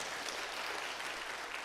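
Church congregation applauding during a pastor's sermon, a dense steady wash of clapping from many hands filling the whole moment without a break.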